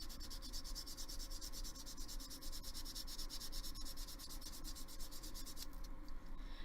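Sandpaper is rubbed by hand in quick, even back-and-forth strokes, close and steady with a dry, scratchy texture, and no one speaks.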